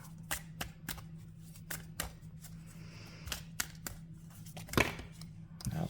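Oracle cards are shuffled by hand at close range, making a steady run of soft riffling flicks and snaps with a sharper burst near the end.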